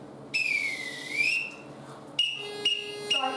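A whistle blown as a signal at a parade or marching event: one long pitch-bending blast followed by a few short sharp toots, fairly close and alone.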